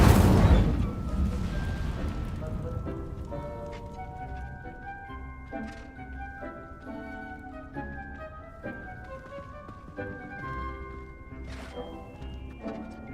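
Incendio fire spell cast in the Hogwarts Legacy video game, a loud booming whoosh at the start that fades into a quieter game soundscape with chimes and effects.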